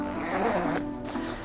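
Zipper on a motorcycle adventure touring jacket being drawn along its track, a continuous close rasping run of about a second with a short pause and a brief final pull, no talk.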